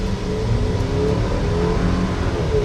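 A 2025 Buick Enclave with a 2.5 liter inline-4 turbo and 8-speed transmission accelerates hard, heard as a loud, steady engine drone with road rumble from inside the cabin.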